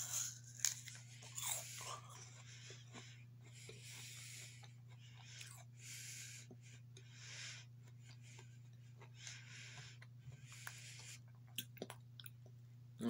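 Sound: biting and chewing a crunchy Spartan apple

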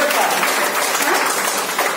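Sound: audience applause at Women's Day celebration

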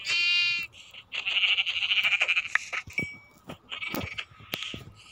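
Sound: goats bleating in a video game

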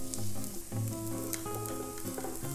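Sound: anchovies and sliced garlic stir-frying in oil

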